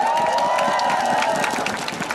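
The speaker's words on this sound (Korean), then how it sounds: "다시 한 번 큰 박수를 부탁드립니다" A baseball stadium crowd applauds the Nexen Heroes players after a win over the NC Dinos, steady claps and cheering spread across a wide space. A tonal public-address sound and distant shouts rise over the applause.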